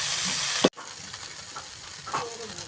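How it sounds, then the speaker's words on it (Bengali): Onion with chili powder and turmeric frying in oil alongside pasta, starting with a loud, bright sizzle that cuts off sharply, then continuing as a quieter sizzle with occasional stirring sounds. "এখন দেখো তেলের উপর পেঁয়াজ দিয়ে দিয়েছে আর সামান্য লঙ্কার গুঁড়ি, হলুদ গুঁড়ো সব কিছু দিয়ে পাস্তাটা দিয়ে"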